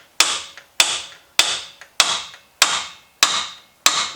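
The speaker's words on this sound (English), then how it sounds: "tap the sides of the spindle" Hammer blows striking the sides of a steering spindle on a 2008 Chevy truck during front axle work, seven sharp metallic taps at an even pace about every half second, close, each with a short ringing decay.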